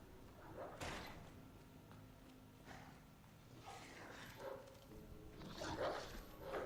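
A zombie dog attacks in the Resident Evil 2 Remake police station, with a few growling, snarling bursts and scuffling thuds rising over a dark game ambience.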